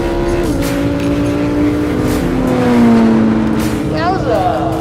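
A Lamborghini and a Porsche launch side by side in a drag race, their engines roaring loud and close and climbing in pitch through the gears, with voices talking over the noise.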